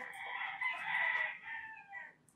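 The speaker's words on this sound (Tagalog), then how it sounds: "Tsaka excuse nga pala dun sa tunog ng manok." Chickens and a rooster kept outside a house, crowing and clucking in one continuous call of a few seconds, fairly clear and close, with no talk over it.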